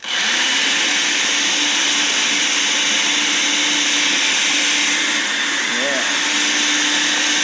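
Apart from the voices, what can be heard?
blender mixing mango cheesecake ingredients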